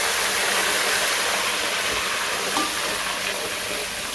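Steady loud hiss of water poured over golden fried onions in a pot for chicken roast pulao, a continuous sizzling wash lasting the whole few seconds with no voices.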